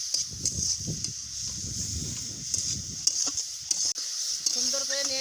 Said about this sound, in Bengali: সুন্দর করে নেড়ে লাল লাল করে ভাজা করবো।